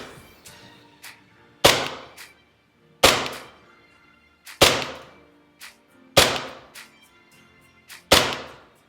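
A KWA M226 LE airsoft pistol fires during a chronograph test: about six sharp, loud cracks spaced roughly a second and a half apart, each with faint clicks and thuds between them, in an otherwise quiet room.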